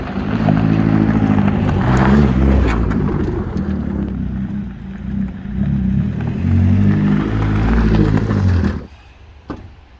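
A rotten, MOT-less Rover Streetwise Turbo's engine drones loud and steady on a test drive, the note rising and falling with throttle before dropping off abruptly near the end.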